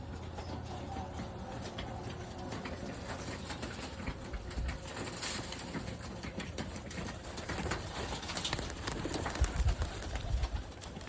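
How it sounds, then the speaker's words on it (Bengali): Pigeons coo softly in an open village loft beside a pond, a faint, low murmuring under steady outdoor background noise, with scattered rustles and a few louder thumps near the end. "কতগুলো কবুতর আছে এখানে?"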